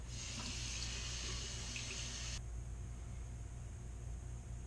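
Tap water runs into a sink for a final rinse after a shave, a steady hissing stream that stops partway through, leaving only quiet room hiss.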